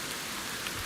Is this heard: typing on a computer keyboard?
no